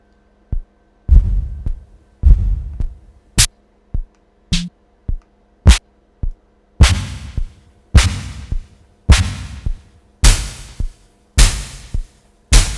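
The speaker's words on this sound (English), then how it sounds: "we're going to choose from snare presets" A series of sharp, punchy synthesizer snare presets, some soft and some loud and bright with noisy tails, played one after another at an uneven pace.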